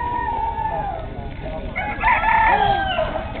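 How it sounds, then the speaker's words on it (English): A rooster crows at a zoo, its drawn-out call rising mid-clip fairly close by over a noisy outdoor background. "You hear that rooster?"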